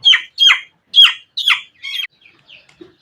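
A native chicken squawking while being handled for weighing, five loud close squawks in quick succession followed by a few fainter clucks.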